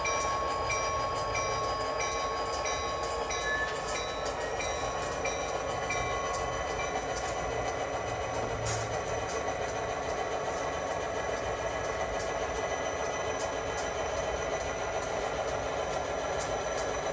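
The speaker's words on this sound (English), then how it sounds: "40-2Ts lead a long coal drag out of the steel runner" EMD SD40-2T tunnel motor locomotives haul a long coal train past at a distance, producing a steady low engine drone with a continuous wash of rail noise and faint squeals throughout.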